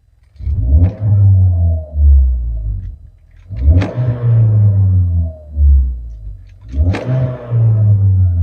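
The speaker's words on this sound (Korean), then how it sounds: "이렇게 배기 튜닝과 밸브 튜닝이 되어 있기 때문에 주행하실 때 조금 더 재미나게 운행하실 수가 있을 것 같고요" Cabin sound of a Hyundai Veloster 1.6 turbo with tuned exhaust and valves: three loud, deep revs roughly three seconds apart, each rising sharply and then settling into a rumbling idle between them.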